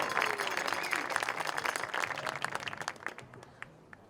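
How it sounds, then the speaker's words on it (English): An audience at a high school hall of fame celebration applauds an inductee, a dense burst of many hands clapping that gradually thins out and fades over a few seconds. "Again, a nice round of applause for Danny Brady,"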